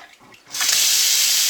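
Cold water gushes from a tap, a steady close hiss of running flow that starts abruptly partway in and continues loudly to the end.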